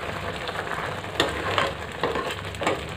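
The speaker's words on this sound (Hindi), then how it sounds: "ये 1 गिलास टमाटर का जूस है, ये डाल देंगे, इसको 2-3 मिनट के लिए सेक लेंगे" Tomato juice sizzles and fries in a pan of onion and curd masala for a juice-based vegetable curry, a steady close crackle with a few brief louder spits.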